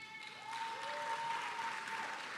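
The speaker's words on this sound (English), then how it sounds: "let's give her a round of applause anyway" Audience applause at a school district teacher-of-the-year awards recognition dinner, a steady wash of clapping across the room at moderate volume, with faint tonal sound overlapping.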